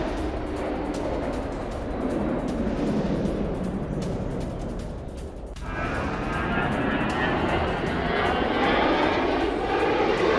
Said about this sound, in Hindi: ये देखिए जरा किस तरीके से बेली लैंडिंग हुई है, पायलट ने इमरजेंसी लैंडिंग से बचाया SU-35